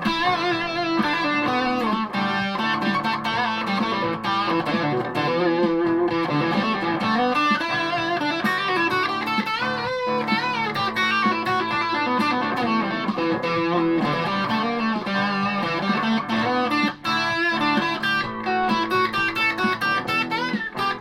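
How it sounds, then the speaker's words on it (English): Electric guitar played through a Washburn Stack in a Box distortion pedal set to mild distortion, sustained chords and riffs with a continuous saturated tone, loud and close with no talking. "Really getting to like my Washburn Stack in a Box pedal, which I'm using just now."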